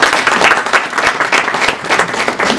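Audience applause at an organization's meeting in Columbus, Ohio, a full, busy wash of many hands clapping with uneven surges, close and steady throughout.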